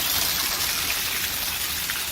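Steady rain falls outside an apartment complex, a continuous dense hiss of drops on surfaces, loud and close, with no talking.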